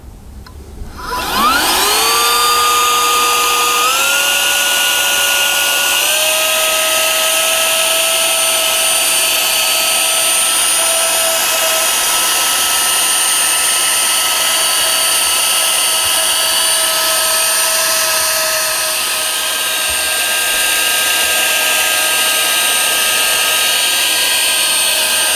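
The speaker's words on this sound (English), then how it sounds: "So far I'm quite impressed with this little vacuum cleaner." A small motor whines up to a high, steady pitch and keeps running loud and constant, with slight shifts in tone.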